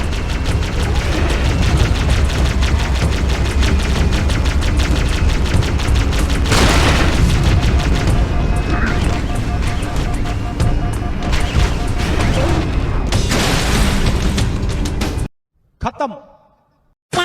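Heavy Covenant tank fire and explosions in Halo: Combat Evolved, a dense continuous barrage of booms and blasts at the tunnel entrance, loud throughout before cutting out near the end.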